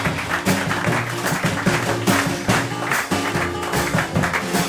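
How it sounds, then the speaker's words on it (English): Applause ripples through a room at a jazz festival, a steady, fairly loud clatter of many hands with music-like tones mixed underneath. "Please give them a round of applause as well"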